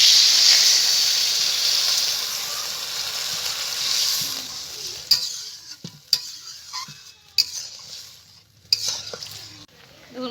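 Water is poured into a pan of fried spiced masala with fried raw-banana koftas, giving a loud hissing sizzle that slowly fades, followed by a few clinks and stirring scrapes.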